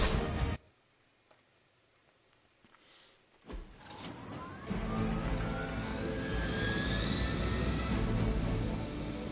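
Helicopter in the Marvel Midnight Suns video game, a loud steady roar with rising whine building after a quiet lull, continuous to the end.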